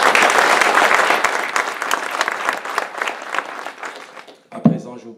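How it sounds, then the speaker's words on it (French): Warm applause from a conference audience at a Burundian political gathering, dense clapping that starts loud and gradually thins and fades, ending with a brief louder knock before near silence. "Je vous prie de l'applaudir très chaudement."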